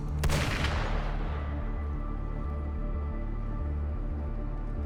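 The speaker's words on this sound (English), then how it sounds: "Gunfire!" A sharp burst of gunfire in the video game Wuthering Waves at the start, then a steady low rumbling drone with a pulsing bass pattern that continues to the end.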